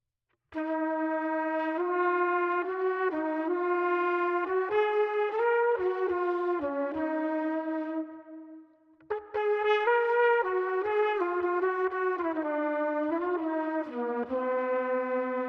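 Trumpet run through a Quad Cortex chorus effect at a fast rate, playing a sustained melodic line with wavering, slightly detuned tone, loud and close, with one brief pause midway.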